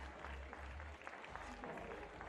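Home crowd applauding and cheering an ice climber at an ice climbing European Cup event in Ostermundigen, a steady wash of clapping at moderate distance with a few louder bursts.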